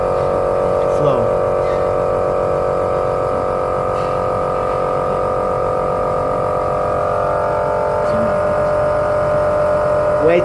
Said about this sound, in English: Turn on the vacuum pump and let the liquid